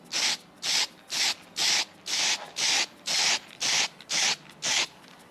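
Ten evenly spaced hissing bursts from an aerosol spray paint can, test sprays, each about a third of a second, close and fairly loud with short pauses between.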